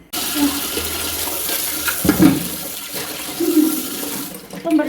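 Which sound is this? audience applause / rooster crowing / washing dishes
washing dishes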